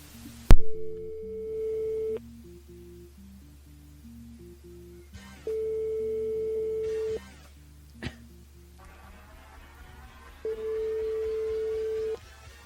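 Telephone line tones on a live morning radio show as a call is placed: a sharp click, then three long steady ringback beeps separated by pauses, with a low hum underneath and no talk.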